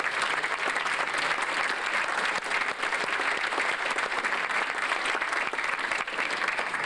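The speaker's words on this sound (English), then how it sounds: "I think they deserve a nice round of applause right now for everything they do" Steady, full applause fills a banquet hall as the audience claps for the parents of high school athletes, loud and continuous throughout with no pauses or talk.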